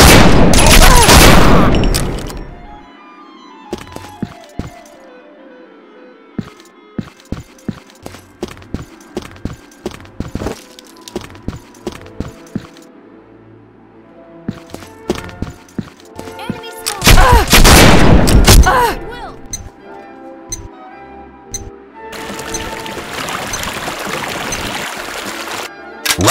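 Gunfire in the shooter game Combat Arms on the Kill Creek map: loud bursts of shots open and recur midway, with scattered single cracks and rapid volleys between them, and quieter stretches in between.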